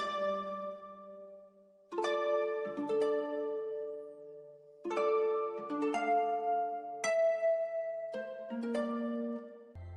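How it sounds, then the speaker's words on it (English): A soft nylon-string guitar from a Kontakt sample bank plays a melody, a clear run of plucked notes and chords that ring and overlap, close and alone. "so the first sound we've got is this guitar from Contact"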